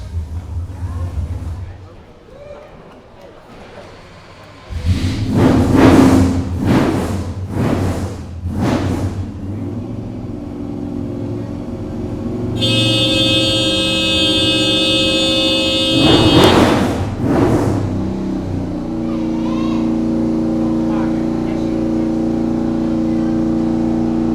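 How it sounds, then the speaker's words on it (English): The Beast 3.0 Dakar rally car engine fires up and revs hard in several loud bursts, drops to a rough idle, flares once more, then settles into a steady idle; people talk and cheer in the background. "He starts the car and then we're done and the party can start."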